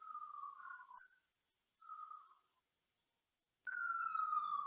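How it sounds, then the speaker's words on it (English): A faint emergency siren in the background outside, wailing in short broken phrases with brief gaps of near silence between them. "Saying I have a siren in the back."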